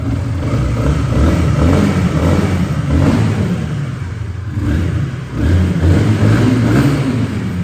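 A 2016 Honda CBR 125R with its stock exhaust revs up close and loud. The engine note swells and falls in several throttle blips over a steady idle, with no talking.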